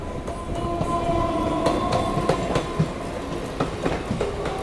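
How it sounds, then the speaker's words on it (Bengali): A Chennai local train leaves Chennai Beach station, rolling along the tracks with a steady rumble, broken by sharp rhythmic clacks as the wheels cross rail joints, close and loud. "এই ট্রেনটা জাস্ট চেন্নাই বিচ স্টেশনে আসলো আবার এখনই দেখো ছেড়ে চলে যাচ্ছে"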